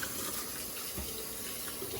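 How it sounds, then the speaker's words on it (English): Tap water runs steadily into a sink while hands are washed in a kitchen, a close, continuous hiss and splash for about two seconds with no talking. "Hands washed."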